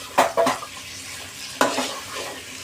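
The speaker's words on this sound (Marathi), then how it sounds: "ते चांगलं चवचवून घ्यायचं तेलावरती, मसाल्यावरती मटण" Bhandari-style goat mutton is stirred in hot oil with spice masala in a pan: a few quick scraping clatters of a spoon against the pot over a soft, steady sizzle, close up.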